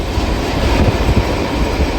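A passenger train on the Chester Christmas Explorer excursion runs at full speed, heard through an open window: a steady, loud roar of wind and rumbling rail noise with low thumps from the wheels, continuous throughout.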